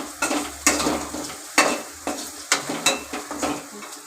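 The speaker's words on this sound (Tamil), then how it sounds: "கிண்டி விட்டுட்டே இருக்கணும்." A spoon scrapes and stirs food in a frying pan in a home kitchen, a series of rhythmic metallic scrapes about every half second over a soft sizzle, close and clear with no talking.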